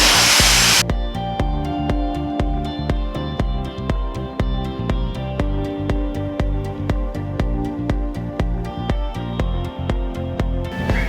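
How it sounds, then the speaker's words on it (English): A hair dryer blow-dries hair straight, a loud steady whooshing hum running continuously close by, with a faint rhythmic ticking pattern in the background. "So the hair has been blow dried straight."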